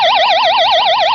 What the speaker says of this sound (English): I can push the button and test the alarm.